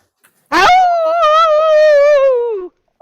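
A dog at an animal shelter gives one long, loud, drawn-out howl lasting about two seconds. The pitch wavers and sags slightly before it cuts off, and the howl stands alone in silence.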